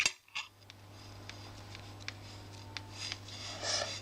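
Scraping and light tapping of a blade slicing through a soft polymer clay cane on a work surface, a few short close clicks over a steady low hum, no talking.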